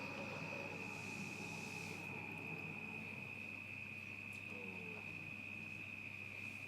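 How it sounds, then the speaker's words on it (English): Crickets chirp at night in a continuous, even trill that holds steady throughout as a nighttime sound effect, with no voices over it. "And you hear the crickets."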